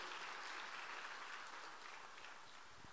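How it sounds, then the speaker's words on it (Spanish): A church congregation applauds in a steady, dense wash of clapping that stays fairly even throughout, heard at a distance and quite faint. "dale un fuerte aplauso al Todopoderoso"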